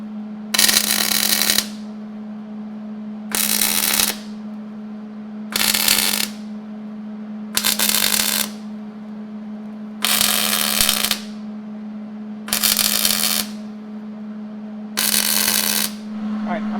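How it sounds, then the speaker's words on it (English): Steel flat-tow brackets for a Suzuki Jimny are tack welded in seven short, crackling bursts, evenly spaced about two seconds apart over a steady electrical hum. "I'm going to go through and put some tacks on it."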